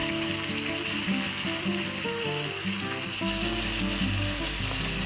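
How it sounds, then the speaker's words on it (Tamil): Tomatoes dropped into a hot pan for rasam, giving a steady, dense sizzle that holds throughout alongside a low background hum. "இது சூடா இருக்கும்போது இந்த தக்காளியை நம்ம போட போறோம்"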